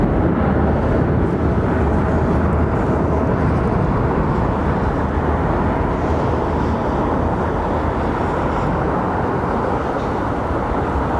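Boeing airliner engines at London Heathrow Airport give off a steady, loud, broadband roar that holds unbroken for about eleven seconds, with no voices.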